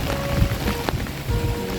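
Rain and gusting wind of an outdoor storm in a park, a steady broadband wash with rumbling low buffeting throughout, fairly loud and without speech.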